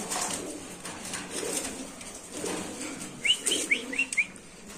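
Pigeons in a pet pigeon market setting, a pair of birds handled by hand: soft repeated cooing and a few short bursts of wing flapping near the end, over faint background chatter and ambient noise.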